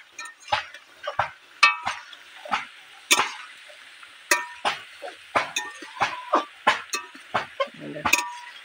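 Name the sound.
stirring fish curry in a wok (kadai)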